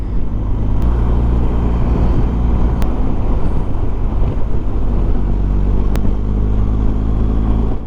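Motorcycle riding hilly country roads on the Ludlow South Loop near Clee Hill, a steady loud engine drone heavily mixed with wind buffeting on the microphone, continuous with a few sharp clicks.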